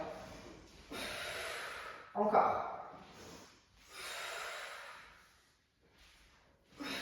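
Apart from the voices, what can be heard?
loud forceful breathing during exercise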